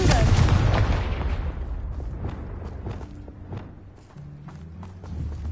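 A Confringo fire spell from a Hogwarts wizarding video game bursts with a loud, deep blast that rumbles and fades over a few seconds, followed by softer footsteps and mechanical clatter in the game scene.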